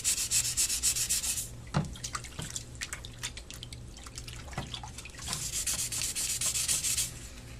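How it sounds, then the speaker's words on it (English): Scrubbing rust off a wet circular saw blade with laundry detergent: bursts of harsh, close brushing and scraping at the start and end, with scattered drips, taps and light scratches in between. "get the majority of this rust off of this blade, bring this blade back to life"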